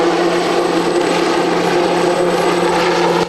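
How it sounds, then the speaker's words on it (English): The Eurocopter X3 hybrid helicopter, with a main rotor and two side-mounted airplane propellers, flies during its U.S. debut in Grand Prairie. It makes a loud, steady, dense roaring drone that stays constant throughout. "Grand Prairie is making aviation history as it hosts the U.S. debut of the Eurocopter X3."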